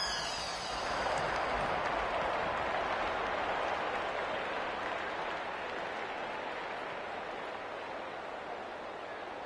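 A home crowd cheering in the rugby league video game Rugby League 26, a broad roaring swell of stadium noise that peaks early and then holds steady, slowly easing for the rest of the clip.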